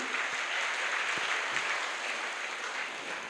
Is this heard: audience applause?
yes